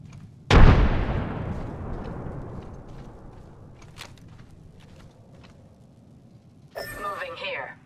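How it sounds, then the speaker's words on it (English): Frag grenade blast in a military video game: a single sharp, loud explosion with a long rumbling decay, followed by faint scattered sounds and a voice speaking near the end. "Tossing a frag."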